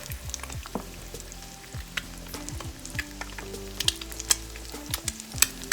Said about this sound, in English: we're going to let the pan finish cooking off our eggs